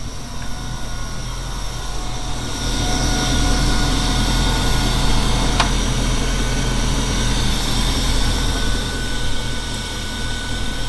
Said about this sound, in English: As you can see, the motor is running right now.